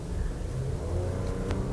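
A 2021 Porsche Macan Turbo drives with its automatic gearbox, and the engine hums steadily with a low, even drone as it pulls along, heard from inside with no talking.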